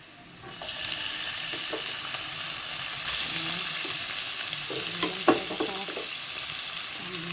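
Pork hisses and crackles as it is stir-fried in a hot pan, a steady loud sizzle starting half a second in and lasting throughout, with occasional clinks and scraping of a utensil stirring the meat.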